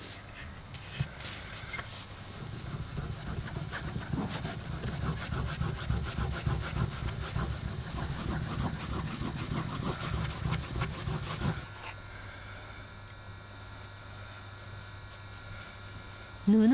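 A maki-e lacquer surface is polished with a cloth and fine horn powder, a soft, steady rubbing swish that runs continuously, then drops to a quieter hush near the end.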